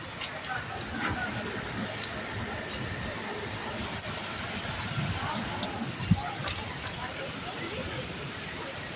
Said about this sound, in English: I think it's about to start raining hard now.